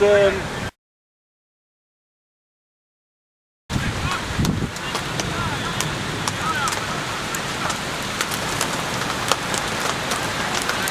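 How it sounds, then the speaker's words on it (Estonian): Heavy hail storm pounding a football field, a dense, loud, steady clatter and roar of hailstones filling the scene after a short silent gap, with occasional voices underneath. "See mingi ulme rahe või midagi."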